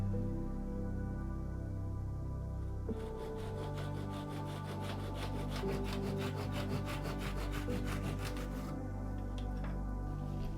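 Wooden pieces being sawn to length by hand, a run of fast, even back-and-forth strokes rasping close by for several seconds, over a low steady background hum.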